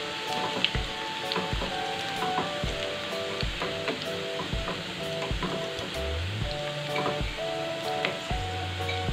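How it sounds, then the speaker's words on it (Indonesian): Minced garlic sautéing in hot oil for chili oil, with a steady close sizzle and crackle broken by a few clinks and scrapes from stirring, no voices. "Langsung aja aku mau masukkan bawang putih yang sudah dicincang halus tadi. Ini kita tumis nih bawangnya."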